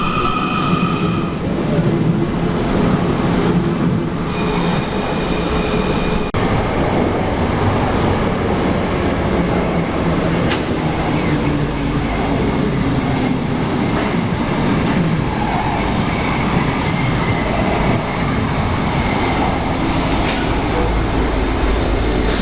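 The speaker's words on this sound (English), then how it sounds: "Those trains are very old, but it surprised me how quiet they are." An old Munich U-Bahn subway train runs with a loud, continuous rumble and hiss of wheels on track, with faint rhythmic clatter throughout.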